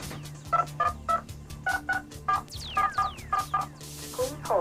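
A phone number is keyed in, producing a rapid series of DTMF keypad tones in an irregular rhythm over a low steady line hum, ending with gliding electronic chirps.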